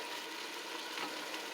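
Ground beef sizzles steadily in a pan for spaghetti sauce while being chopped up, a continuous close frying hiss with faint scraping and no talk.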